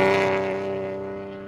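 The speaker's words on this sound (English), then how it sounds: "I love the sound of that car." A loud, steady BMW M3 rally car engine note with a rich harmonic drone, holding its pitch and gradually easing off slightly in volume, close and continuous, at the 2012 Oregon Trail Rally.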